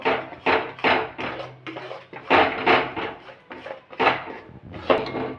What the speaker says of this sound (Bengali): ক্যারামেলটা আমার তৈরি হয়ে গেছে আস্তে আস্তে গুঁড়োটা দিয়ে আমি মিশিয়ে নেবো